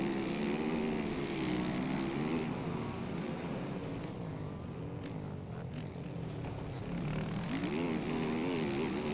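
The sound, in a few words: motorcycle approaching in a video game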